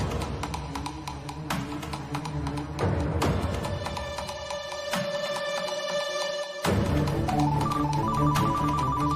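A mobile phone rings in a domestic TV serial scene, playing a loud, continuous melodic ringtone with bright repeating tones. It fills the whole stretch with no talking over it.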